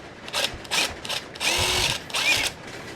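A power drill bores pilot holes through 1/2 inch wood stock in several short, loud bursts of whining spin separated by brief pauses, close up with no talking.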